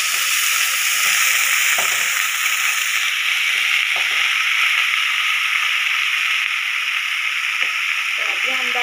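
Pumpkin sabzi fries in a pan with a loud, steady close sizzle, broken by a few soft knocks and scrapes from stirring, and no talk over it.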